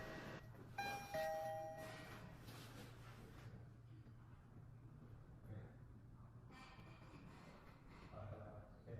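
A TOPTEQ Model P8 camera smart door lock sounds its doorbell, a short electronic chime near the start, followed by a quiet, low hum in the room.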